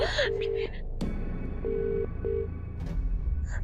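A phone rings out while a call waits to be picked up: short repeated ringback tones with gaps, close, over a low background hum and some rustling.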